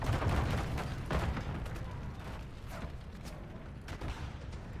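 Rapid gunfire in the video game Call of Duty: Modern Warfare III, a dense, continuous rattle of shots with booming thuds at a steady loudness, and no voices.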